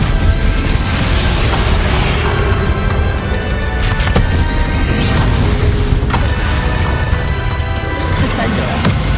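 A Bombarda blasting spell explodes during a Hogwarts Legacy fight against Ranrock, a loud, dense wash of booming rumble and crashing debris that carries steadily throughout with a few sharper impact hits layered on top.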